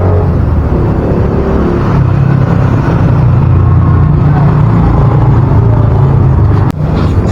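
Loud, steady engine drone from motorcycle tricycles close by on a road, rumbling continuously without a break.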